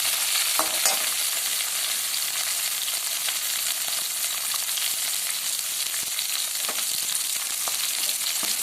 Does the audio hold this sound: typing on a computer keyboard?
no